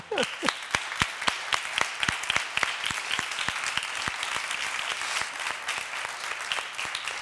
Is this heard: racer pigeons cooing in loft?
no